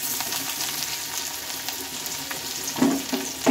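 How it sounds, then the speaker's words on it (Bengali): Thinly sliced chopped onions fry in oil seasoned with black cumin, giving a steady close sizzle throughout, with a brief clatter of stirring near the end. "তো পেঁয়াজটা এখন একটু আমি ভালোভাবে ভেজে নেব"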